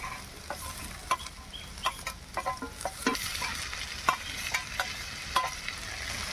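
Peas drop into a hot frying pan and are stirred, bringing a steady sizzle and frequent sharp scrapes and taps of the spoon against the pan, close and fairly loud throughout.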